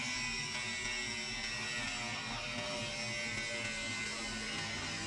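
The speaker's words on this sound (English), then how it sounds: "Nice slow-mo shot here of John in action with the grinder." Angle grinder cutting into the steel roof of a narrowboat, a continuous high, harsh whine that holds steady and fairly quiet for the whole stretch, with no talk.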